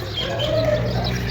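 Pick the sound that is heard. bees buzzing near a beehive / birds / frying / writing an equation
birds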